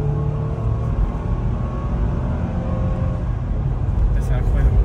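A car driving fast across fields with its engine droning steadily up close, while people talk excitedly inside throughout.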